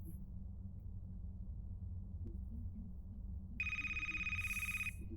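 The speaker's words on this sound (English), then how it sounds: "Don't answer the phone." In the horror game A Place Forbidden, a telephone rings with a sharp electronic trill that starts suddenly near the end, cutting through a low, dark ambient rumble.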